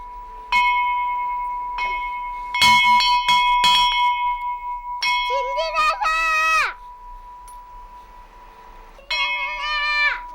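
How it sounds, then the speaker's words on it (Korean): A bell rung to call people to a meal at a remote mountain home without electricity rings out in loud, clear strikes, with children's voices and bright calls breaking in between the rings. "바로 식사 때를 알리는 종소리입니다."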